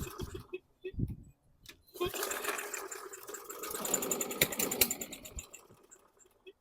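A 2015 Troy-Bilt TB110 lawn mower is pull-started in a few short tugs. The engine catches, sputters, and then runs roughly and fairly loudly for a few seconds before dying away, with a voice heard briefly.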